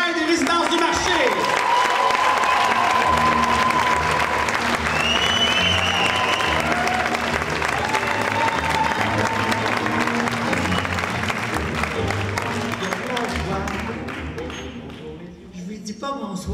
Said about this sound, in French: S'il vous plaît, une bonne main d'applaudissement pour Jacqueline Morin des Résidences du Marc